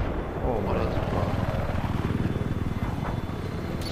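Attack helicopter in the video game Battlefield, on the Dawnbreaker map: a steady, loud, close rotor thump with an engine drone that holds through the whole stretch, with faint voices faintly under it.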